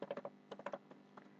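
Typing on a computer keyboard, two quick bursts of close, crisp key clicks with a short pause between, then a few scattered taps, with no talking.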